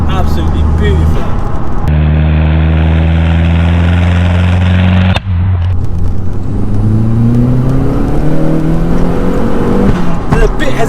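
Performance car engine on a night drive, running loud and steady close by with rising rev sweeps and changes in pitch, plus a sharp bang or pop near the middle; no clear talk over it.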